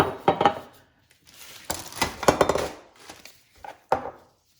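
Metal tart pans, round ones of about 3.5 to 4.5 inches, clatter and clink in several short bursts of handling, close by, with brief pauses between.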